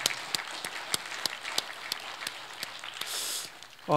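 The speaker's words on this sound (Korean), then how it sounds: "우리 마음을 담은 박수로 우리 크게 우리 축복하겠습니다" A church congregation applauding to bless departing members during a Sunday service, moderate clapping across the room with distinct sharp claps punctuating a softer wash, easing off near the end before a brief noise.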